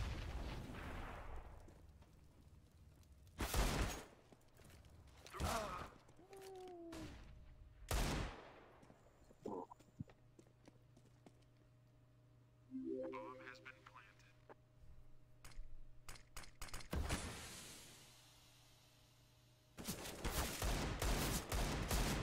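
Gunfire from Counter-Strike on the Train map comes in several loud separate bursts and single shots spread across the stretch, with quieter gaps and game noises between them, and players talk throughout.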